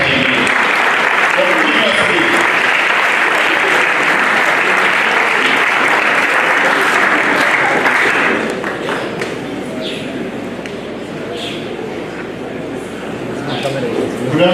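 An audience at a school career guidance and mentorship fair applauds a speaker, loud dense clapping close by that fades after about eight seconds into murmuring and scattered voices, with talk audible beneath.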